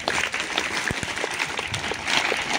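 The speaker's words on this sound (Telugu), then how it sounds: "మీరు ఒకసారి మీ పంచువాలిటీకి మీరే ఒకసారి క్లాప్స్ కొట్టండి మా" Blind children at a school gathering clapping, a lively burst of many scattered hand claps with a few sharper close ones, over a noisy room background.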